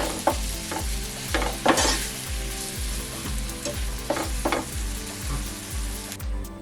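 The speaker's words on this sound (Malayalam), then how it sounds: "ഇനി പഞ്ചസാരയൊന്ന് മെൽറ്റാവട്ടെ" Two tablespoons of sugar sizzle in a pan as it melts, with steady frying crackle and a spoon scraping and stirring in a repeated rhythm close by, no talking.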